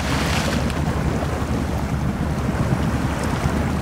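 A Mahindra Thar ploughs through river water in the SnowRunner video game, a continuous loud rushing wash of water and engine rumble with no pauses.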